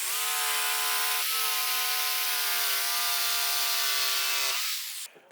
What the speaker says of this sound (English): Then you wanna cut the radius with the jigsaw too.